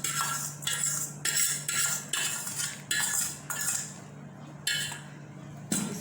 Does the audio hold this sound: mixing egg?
yes